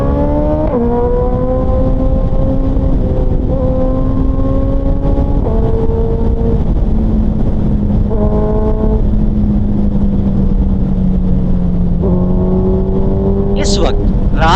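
A Suzuki Hayabusa engine hums steadily while riding at night, its pitch stepping up and down through gear changes, loud and close with a rider speaking over it.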